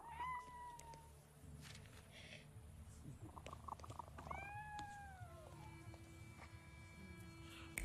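A cat meows in The Thaumaturge game, a few drawn-out, rising-and-falling meows, quiet and close, over a soft game ambience with faint clicks.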